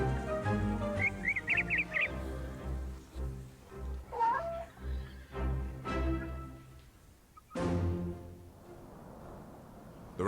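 A cat in the Orwell's Animal Farm game, with a few short meows and bird-like chirps over a tonal, rhythmic music backdrop.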